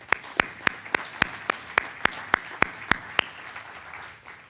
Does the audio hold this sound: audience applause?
yes